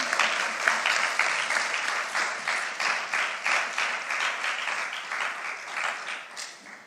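An audience claps through a results ceremony, a full sustained round of applause that slowly thins and fades at the end.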